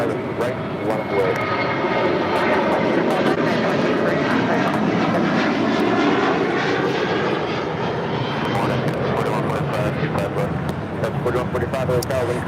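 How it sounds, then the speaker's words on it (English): Sun Country Airlines Boeing 737-800 taking off at LAX: a loud, continuous jet engine roar with shifting tonal whine as it passes, steady throughout, with people talking over it. "This is Sun Country Airlines 8501 taking off to Kailua, Kona on this 737-800."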